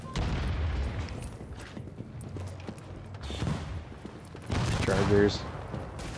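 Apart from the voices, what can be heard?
machine gun fire from enemy gunners in video game The Division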